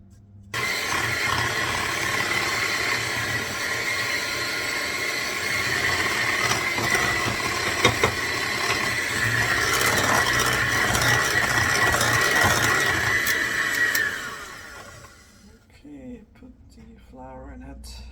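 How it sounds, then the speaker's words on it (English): Batter of flour, baking powder and a pinch of salt being mixed, heard as a steady mechanical whirring with a faint rattle that runs for about fourteen seconds and then stops. "And I want to mix this all up."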